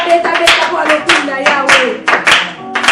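A church congregation claps loudly, with dense rapid applause and hand taps mixed with shouting voices and harmonic vocal tones, all close and continuous.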